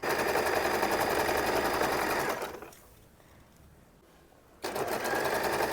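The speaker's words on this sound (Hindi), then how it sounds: "इस मशीन को चलाने में आता है बहुत ही मज़ा। देखिए कैसे खटाखट सिल रही है" Sewing machine stitching the corner of a cut bedsheet, running in a loud, steady rattling whir that stops for about two seconds and then starts up again.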